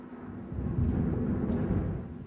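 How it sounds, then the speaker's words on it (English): Low rumbling thunder from a storm outside, a steady broad roll that swells after the first half second and holds for about two seconds, heard from indoors with no voices. "you might notice there's a storm going on outside"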